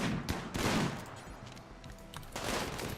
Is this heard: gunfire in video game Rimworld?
yes